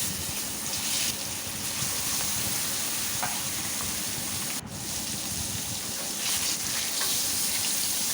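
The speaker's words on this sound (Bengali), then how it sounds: "তেল গরম হয়ে গিয়েছে, এখন মাছগুলো ভেজে নেব।" Pangas fish sizzles and crackles steadily in hot soybean oil in a kadai, a dense, close, continuous frying hiss that runs the whole time with no voices.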